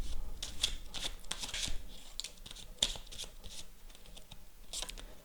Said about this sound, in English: let's get some more tarot cards.